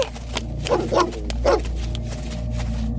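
A large dog barks as a sound effect in a narrated horror story, giving three or four close, deep woofs in quick succession before fading into a low rumbling background.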